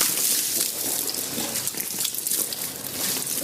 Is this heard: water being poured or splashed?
yes